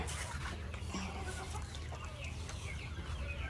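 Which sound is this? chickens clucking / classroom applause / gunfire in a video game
chickens clucking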